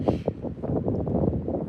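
Gusty wind blowing across Prineville Reservoir on a chilly day, a steady rushing roar buffeting the microphone with low rumbling pulses throughout.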